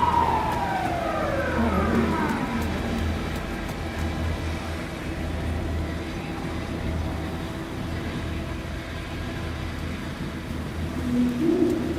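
A police car siren in the video game Alan Wake 2 wails and fades at the start, then gives way to a steady low hum with faint bird calls and a brief tone near the end, with no talk.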